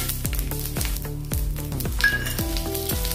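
Cumin seeds and chana dal sizzle sharply in hot oil in a pan, a close, bright crackle with regular knocks of a spoon stirring through it.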